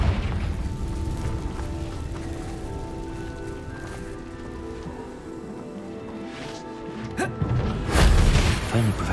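Blast from the Confringo explosive spell in Hogwarts Legacy, a dense rumbling boom amid game music and ambience, with a sharper burst of impact near the end.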